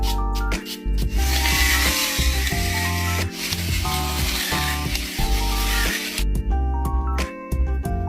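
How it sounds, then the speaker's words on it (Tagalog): Sunflower oil air fryer spray hisses in a long burst onto sea bass, with a steady spraying sound and light background tones before stopping. "Let's use air fryer spray,"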